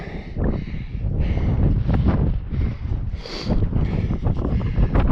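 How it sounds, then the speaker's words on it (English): Gusty wind on the summit of Cradock Peak buffets the microphone in uneven, rumbling bursts, steady and fairly loud throughout. "Quite a chilly wind this."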